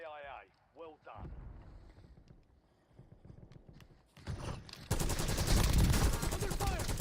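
Gunfire in a video game: rapid bursts of close, loud shots building into a dense sustained volley, with voices speaking over the opening.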